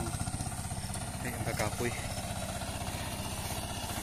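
Tractor engine running in a rice field, a steady close mid-pitched engine drone with rapid regular pulsing throughout, while someone speaks briefly over it.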